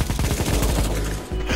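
Rapid automatic P90 gunfire in the video game CS:GO rattles loudly and almost continuously, with one brief break near the end before the shots resume.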